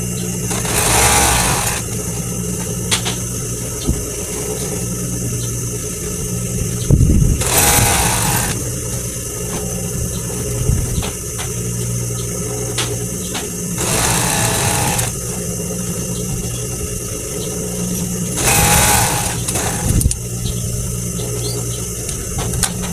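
An edging sewing machine runs in several bursts of steady whirring stitching as it hems the four corners of a bedsheet, with quieter pauses of handling between runs.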